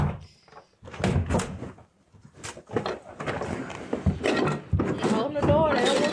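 A basement door is opened, heard as a few wooden thuds and creaks mixed among bursts of close, agitated voices talking.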